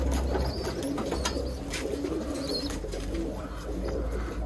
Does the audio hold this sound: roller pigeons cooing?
yes